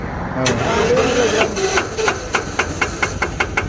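An I-taen mini farm vehicle engine turns over with a few cranking attempts and then catches, settling into a fast, regular chugging putter up close.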